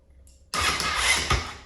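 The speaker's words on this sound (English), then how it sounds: "So the electric start works fine." A Honda CRF450X dirt bike that sat unused for ten years is fired up on its electric starter: after a quiet moment, a sudden loud, broad roar kicks in and holds steady, close by.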